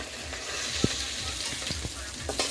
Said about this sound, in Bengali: চিংড়ি মাছগুলো একটু ভালো করেই ভেজে নিতে হবে